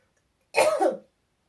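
A single close cough with throat clearing, one short burst of about half a second in an otherwise silent room.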